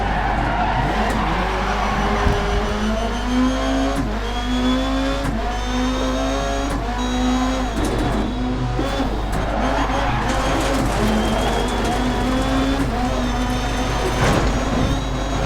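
Rallycross race cars in a racing video game at Lydden Hill roar continuously up close, engines revving and shifting pitch, with repeated tire skids and squeals throughout.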